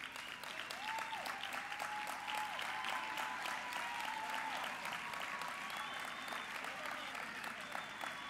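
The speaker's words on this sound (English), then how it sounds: "And let's give them a round of applause." Audience applause at an annual award ceremony, a steady patter of clapping from a seated crowd heard fairly faint and distant, with a voice speaking over it early on.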